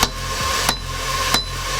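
Hammer forging a bevel onto the edge of a hot steel axe: three sharp, ringing strikes about two-thirds of a second apart, close and loud over a steady roaring background.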